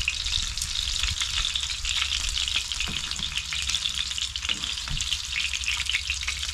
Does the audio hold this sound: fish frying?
yes